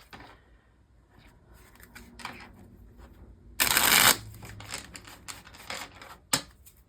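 A deck of tarot cards gets shuffled at close range in soft rustling bursts, with one louder riffle in the middle and scattered light card taps around it.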